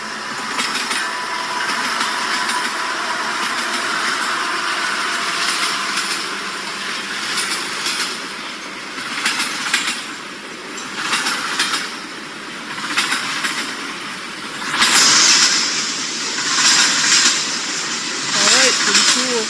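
A freight train rumbles past steadily with rhythmic clattering of wheels on rails, growing louder and hissing toward the end.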